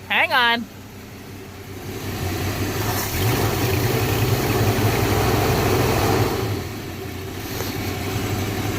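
A Mustang engine with a fuel leak idles, then revs up into a sustained higher drone before easing back down, with a short voice at the start.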